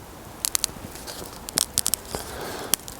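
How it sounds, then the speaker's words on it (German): Grapevine shoot being bent during spur pruning, giving a few faint, dry crackles and snaps that arrive in small clusters against quiet outdoor background. "dann hört man es leicht knistern, aber der Trieb bricht nicht sofort"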